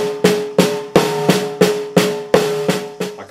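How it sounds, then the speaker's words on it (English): Samba snare drum played Rio style with accents on the beat: sharp, ringing strikes repeating at an even pace with softer buzzing strokes between them, close and loud with no talking. "So if I do an accent on the 1 or on the beat, I'm going to go 1 E and 2 E and"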